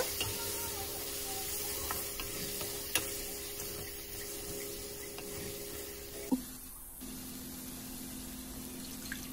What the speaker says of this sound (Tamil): சேர்த்துட்டு நல்லா இந்த மாதிரி கலந்து விட்டுருங்க.